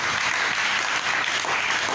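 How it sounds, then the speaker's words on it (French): A church congregation applauds as a crowd during a sermon, a dense and steady roar of clapping that holds at an even level throughout. "Applaudissons notre Dieu."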